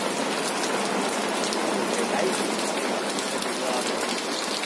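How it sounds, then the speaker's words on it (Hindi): Steady, dense heavy rain in Dharchula pours down without a break, a loud continuous hiss filling the whole stretch with no voices. "अभी धारचूला में बहुत तेज बारिश हो रही"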